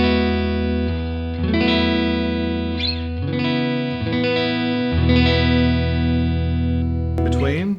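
Electric guitar played through the neck pickup of an HSS guitar with effects, sustained chords and notes ringing out with chorus and distortion coloring, steady and fairly loud throughout with a few chord changes.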